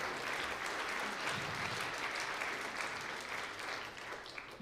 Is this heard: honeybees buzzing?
no